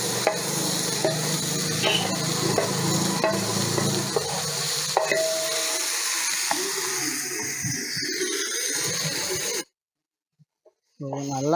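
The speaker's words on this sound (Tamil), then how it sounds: "அந்த ஃபிஷ்ஷை வந்து இதோட ஆட் பண்ணிக்கோங்க." A spoon scrapes and stirs pieces of fish into a thick masala in a pan for fish puttu, a steady rasping churn with faint sizzle that thins out and drops to silence near the end.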